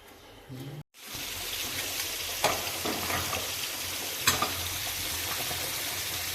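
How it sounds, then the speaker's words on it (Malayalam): Ash gourd pieces and lentils for a curry simmer and sizzle on a stove, giving a steady close bubbling hiss that runs the whole time after a brief gap near the start, with a couple of sharper clinks or pops. "പരിപ്പാദ്യം വേവിച്ചെടുത്തു. എന്നിട്ട് പിന്നെ കുമ്പളങ്ങ കഷ്ണമൊക്കെ ഇട്ടിട്ട് വേവിക്കുകയാണ്."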